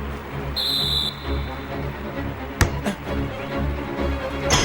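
A short, bright referee's whistle blows for half-time in an anime football match, heard once over a steady background of music and ambience, followed by a sharp knock.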